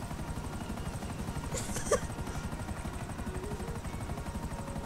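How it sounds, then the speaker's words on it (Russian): A helicopter in the video game GTA Online drones continuously with a steady, rapid rotor chop throughout, loud and close, with a brief sharper blip near the middle and no talk. "Вы второй пилот моего вертолете."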